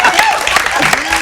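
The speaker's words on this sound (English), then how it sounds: "That is an applause." A studio audience claps loudly for a band on a music show, a busy full burst of applause with a voice speaking over it.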